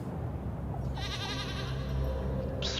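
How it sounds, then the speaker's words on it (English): A goat in the video game Little Goody Two Shoes gives a drawn-out, wavering bleat over a low ambient music bed, loud and close, lasting about two seconds. "Spoopy goat."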